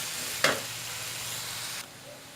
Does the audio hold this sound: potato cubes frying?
yes